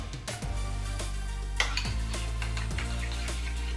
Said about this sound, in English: Let's mix all of this up.